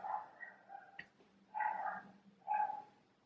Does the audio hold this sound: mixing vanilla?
no